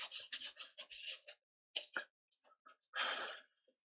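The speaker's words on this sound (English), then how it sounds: "some IPA and the cloth so we can clean" A cloth soaked in IPA is rubbed over PS5 parts, producing close, brisk scrubbing and wiping bursts separated by short silent pauses.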